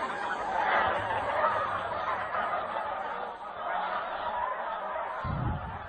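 A large flock of bean geese resting on ice keeps up a dense, continuous chorus of overlapping honks and calls, fairly close, with no voices present.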